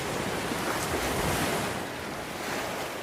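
Waves wash steadily onto the shore of Pangong Lake in Ladakh, a continuous, fairly loud surf with wind buffeting the microphone and no voices.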